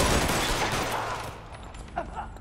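Gunfire in the video game L.A. Noire, a dense noisy burst of rapid shots that fades over a couple of seconds, followed by a few fainter pops, with a voice mixed in.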